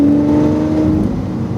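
A race car's engine drones loud and close as it powers out of a left-hand turn on a track during a driving course, one sustained tonal roar.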